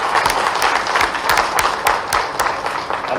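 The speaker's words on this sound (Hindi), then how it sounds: "जोरदार तालियां बजाएं इस बात में।" Loud audience applause at a live event where a state chief minister meets investors, industrialists and business people, with rapid sharp claps throughout the whole stretch and a few bright individual hand strikes standing out.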